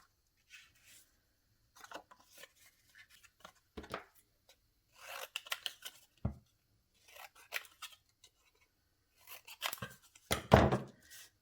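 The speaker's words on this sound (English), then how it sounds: "I need to cut this down actually." Scissors snipping through paper while trimming a sheet down for a handmade zine for pen pals, heard as irregular close crisp cuts and rustles in short bursts, with a loud flurry near the end.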